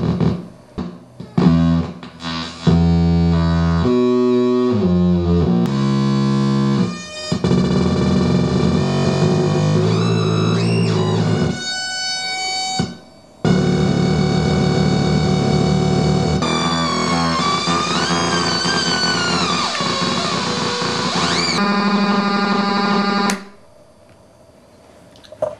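Loud electronic tones from a DIY 555 timer synth, harsh and buzzy, pulsing and warbling as two closely tuned oscillators beat, with abrupt cuts and changes throughout, no reverb or effects, no voices.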